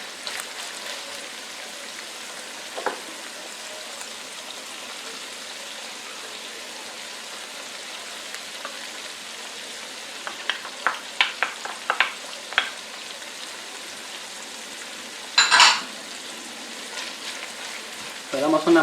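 Peppers and spring onion for Peruvian chaufa fry over medium heat in a pan, a steady sizzle with scattered clicks of stirring and a louder scrape near the end.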